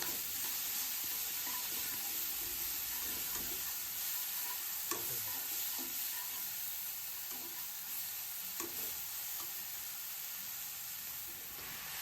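Onions frying in a village kitchen with chili paste, salt and ground cumin, for a lafa saag dish: a soft, steady sizzle and hiss with occasional faint stirring clicks, no voices.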